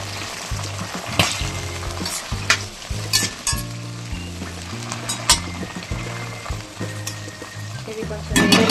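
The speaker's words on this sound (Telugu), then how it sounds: "ఆ లోపల ఈ పచ్చిమిర్చి ఏవైతే ఉన్నాయో వేగిపోతాయి" Whole green chillies frying in oil in a lid-covered pan for a mint-coriander chutney, giving a loud continuous sizzle with sharp crackling pops and low bubbling underneath, close up and with no talking.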